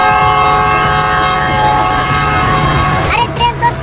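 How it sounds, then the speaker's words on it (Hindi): A cartoon train sounds a loud, sustained whistling horn at a station, steady and close, before it gives way to clatter and voices near the end. "अरे ट्रेन तो सीटी मार रही है।"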